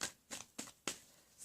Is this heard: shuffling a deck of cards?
yes